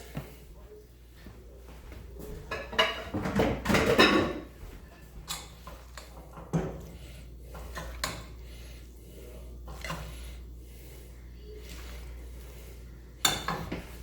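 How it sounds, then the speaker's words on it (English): Beef skillet macaroni scooped into a bowl, with scattered clinks and knocks of dishes and utensils, one louder scraping cluster early on, fairly close and otherwise quiet. "I will put this in a bowl."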